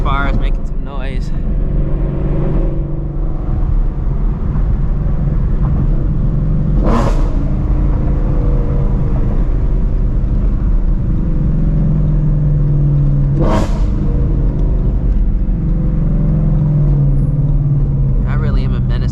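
Steady, heavy engine rumble from a loud Shelby GT350 Mustang cruising at night, heard from the cabin with a couple of brief surges as the throttle changes.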